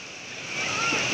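Ocean surf rolling onto a beach where surfers and swimmers are in the water, a steady broadband wash that swells louder halfway through, with faint voices mixed in.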